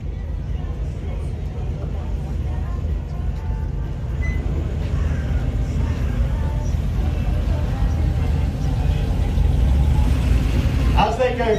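A steady parade of Porsche 911 Turbos and other automotive brands rolls past at Salon Prive London 2024, engines droning continuously and loudly with a rising rumble near the end, under crowd noise.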